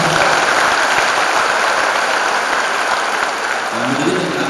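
Lively applause fills the hall at a university graduation ceremony at Universitas Sumatera Utara, a loud continuous clatter of many hands with faint voices rising beneath it near the end.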